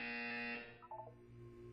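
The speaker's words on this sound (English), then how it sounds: "You will hear a buzzer." A loud electronic buzzer from the video game Portal 2 sounds as a steady tonal drone for about half a second, then breaks off into a few short, fading tonal blips.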